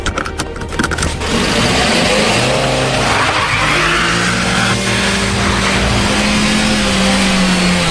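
Loud, continuous car engine roar and tire skid in a video game, with a rising engine tone as the car accelerates, alone without talk.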